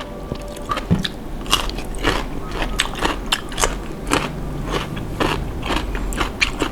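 Crunchy jellyfish salad dressed with sesame oil is chewed close to the mic, with loud, rhythmic wet crunches and bites repeating steadily throughout.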